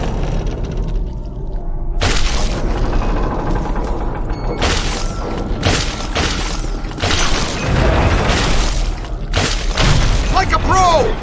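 Blasts from a proton-style equipment weapon striking a ghost tether in the Ghostbusters (2009) video game: a loud, dense run of bursts, booms and mechanical crackles in repeated waves, with a voice talking over parts.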